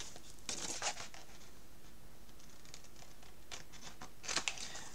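Scissors cutting paper in one continuous piece while crafting a lit Christmas shop-window album page, with a few short crisp snips and rustles against a quiet background.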